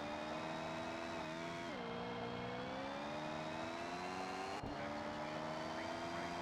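A rally car engine drones in Colin McRae Rally 2.0, holding a steady high rev with tonal whine that dips and shifts as gears change, loud and continuous with no talk over it.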